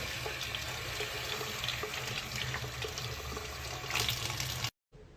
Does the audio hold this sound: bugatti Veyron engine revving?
no